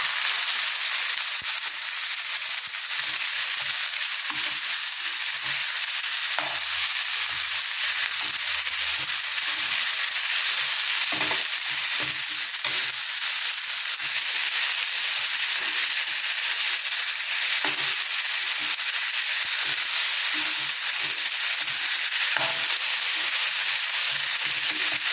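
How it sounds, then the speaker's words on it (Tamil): Black-eyed pea stir-fry (karamani poriyal) frying loudly in a pan, a dense continuous hiss and sizzle with scattered scraping knocks from stirring and mixing throughout. "இதையும் நல்லா மிக்ஸ் பண்ணி விட்டுக்கலாம்."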